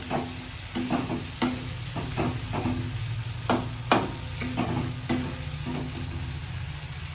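Yogurt-and-salt marinated chicken fries in mustard oil with a steady sizzle, broken by repeated sharp clicks and scrapes as a utensil stirs it close by and no one speaks.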